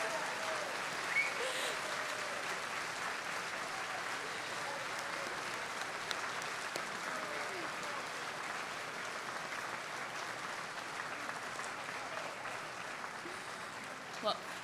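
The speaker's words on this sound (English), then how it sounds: "Well, thank you for clapping for them" An audience at an Astronaut Hall of Fame induction gala claps for astronaut scholars, soft and distant, a steady wash of applause with voices murmuring underneath throughout.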